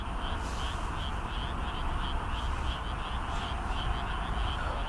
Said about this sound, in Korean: 개구리 녹음한 거 소리 들려줄 수 있으세요?